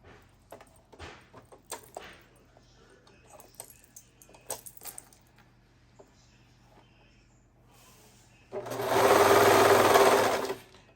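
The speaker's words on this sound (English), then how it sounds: "So I'm going to put everything together, right sides together. Start in my armbands and serge down." A serger stitches garment pieces together with right sides facing, starting at the armbands. It whirs in one loud, steady run near the end, after scattered quiet handling clicks and rustles.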